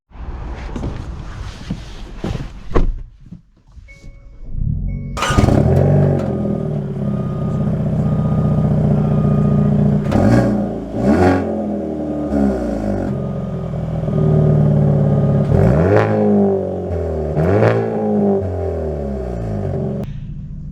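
Manual Hyundai Elantra N pulling away, with a steady engine drone and rising, falling revs through gear changes, heard close from inside the car after a few opening clicks and knocks.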